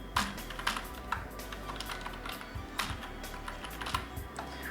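Password being typed on a computer keyboard during SQL Server login setup, a quick run of sharp, close key clicks in irregular bursts with brief pauses, no speech.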